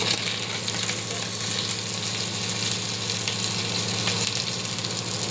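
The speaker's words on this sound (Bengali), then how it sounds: "আলুটা এখন ভাজা করছে" Boiled potatoes fry in a pan with a steady, close sizzle that hisses evenly throughout, joined by a low rhythmic stirring or pan rattle underneath.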